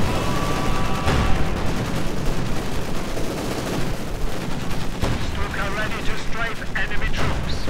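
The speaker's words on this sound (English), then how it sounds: "Fragmented bombing run straight on the infantry." A fragmentation bombing run in Company of Heroes 2, a World War II strategy game, brings dense continuous gunfire and explosions that build into a loud chaotic barrage, with a voice talking over it.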